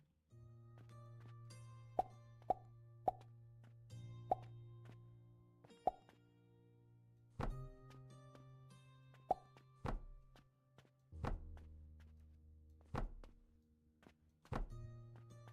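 Stone blocks dropping into mortar and pestle makers in a video game, giving a series of soft plops and hollow thunks at irregular intervals over a low steady machine hum, with a few sharper clicks and no talking.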